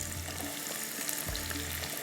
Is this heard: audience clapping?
no